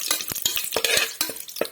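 Whole spices and a bay leaf sautéed in hot oil in a pan for chickpea biryani, with quick scraping stirs and soft sizzling in short, close bursts, no voices.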